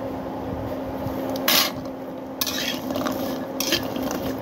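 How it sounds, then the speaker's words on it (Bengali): Whole jackfruit seeds frying in a wok while being turned and stirred, producing a low continuous sizzle broken by three short scraping clatters of the spatula. "বিচিটাকে এইভাবে ভেজে নিব আমরা, উল্টিয়ে পাল্টিয়ে নেওয়া লাগবে।"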